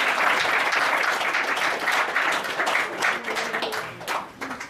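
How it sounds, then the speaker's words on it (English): A room of people applauding children at a Bhagavad Gita prize distribution, dense sustained clapping close by that thins slightly toward the end. "let us give a big round of applause for the children"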